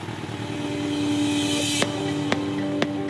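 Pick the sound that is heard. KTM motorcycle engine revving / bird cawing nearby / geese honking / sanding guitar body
KTM motorcycle engine revving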